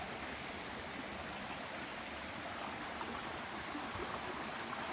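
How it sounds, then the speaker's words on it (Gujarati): Stream flowing between two hills in a hilly area, a steady broadband rush of water that stays constant throughout with no voices. "ઝરણા વહે હો"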